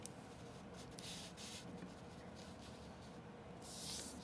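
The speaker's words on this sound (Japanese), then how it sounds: "はい、では書いていきましょうか。" A hard pen scratching across paper in Japanese pen calligraphy, soft rhythmic strokes with short pauses between them, faint and close, with no voices.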